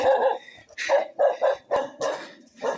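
A dog barks repeatedly in a rural farming area, about seven short barks in an uneven rhythm, fairly close and clear, with no talk over them.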